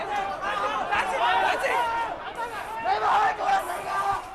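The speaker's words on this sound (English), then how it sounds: "By midday, a massive crowd has effectively occupied the streets." A massive crowd of protesters fills the streets near Hong Kong's Legislative Council building, a dense, steady babble of many overlapping voices chattering close by with no pause.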